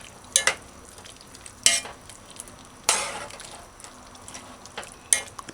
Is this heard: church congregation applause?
no